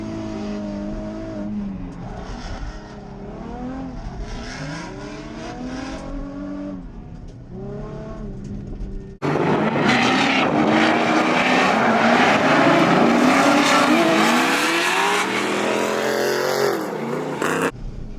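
Drift cars running in tandem at Willow Springs Raceway, engines droning and shifting pitch through the opening stretch, then a louder, dense roar of revving and tire noise takes over for the second half, steady and close.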